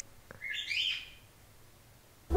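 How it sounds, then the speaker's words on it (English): A pet bird gives a single bright, warbling chirp at moderate distance, rising and falling over about half a second in a quiet room, followed by near silence and an abrupt thump at the end. "my bird is making noises."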